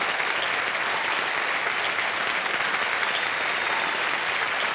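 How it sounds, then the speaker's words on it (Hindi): Studio audience on a televised quiz game show claps steadily and loudly, a dense continuous wash of applause with no pauses. "और ताली बजती रहे क्योंकि इनके नाम चेक आने वाला है।"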